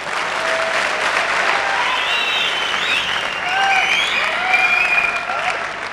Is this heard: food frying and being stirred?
no